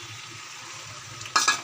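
Potatoes go into a pan of frying mutton curry, a steady low sizzle jumping into a louder burst of spitting and crackling as they land near the end.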